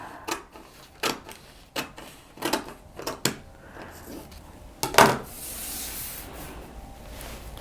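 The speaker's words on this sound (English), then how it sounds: "Okay, so the next step is I'm going to cut this line." Scissors snipping through a paper sewing pattern while a dart is added to a full-bust bodice, a series of sharp close cuts at a steady pace followed by a longer rustle of paper, no talk.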